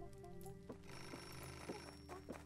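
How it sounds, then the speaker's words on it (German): A telephone rings in the video game Beholder, with repeated bright bell trills in short bursts over a steady background tone, heard fairly quietly with no talking. "Oh, Telefon!"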